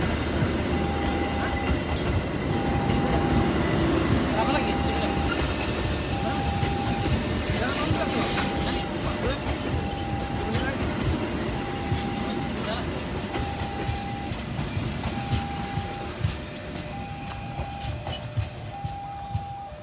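A Sribilah Utama passenger train passes straight through Bandar Tinggi station without stopping, rumbling loudly and steadily throughout, with a repeating tonal beep or signal tone over the noise.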